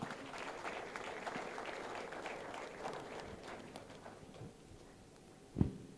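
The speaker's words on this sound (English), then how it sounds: "Please give him a round of applause." Sustained clapping from a crowd at a tech festival in Jos, steady and fairly dense, fading slightly toward the end with a single sharp knock near the close.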